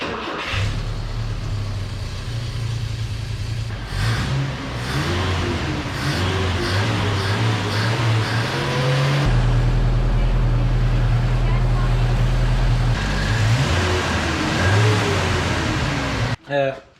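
An old truck engine, freshly adjusted for ignition timing with a suspect carburetor, idles and revs in uneven surges, loud and near, with someone talking over parts of it.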